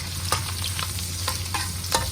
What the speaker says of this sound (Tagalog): Prito na natin guys ang ating dilis.